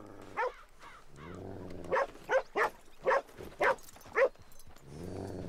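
A dog in the Red Dead Redemption II video game barks about six times in quick, evenly spaced bursts, close and clear over a low ambient hum.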